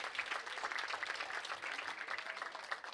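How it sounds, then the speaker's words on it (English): Audience at a youth bowling championship awards ceremony clapping steadily, a dense even patter of many hands at moderate distance throughout. "Give him a round of applause for that."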